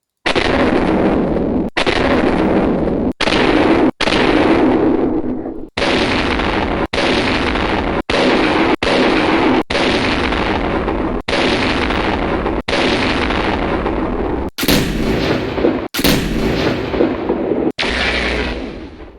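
Heavy LB20 and LB10 autocannon fire from the video game MechWarrior 3 in long sustained bursts, loud and dense, separated by brief gaps, with booming impacts layered throughout.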